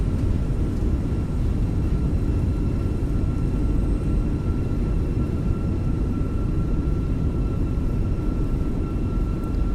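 Airbus A320 landing in a flight simulator, thrust reversers deployed: a steady, loud, broadband jet roar holds for the whole stretch, with a faint high whine, and no voices.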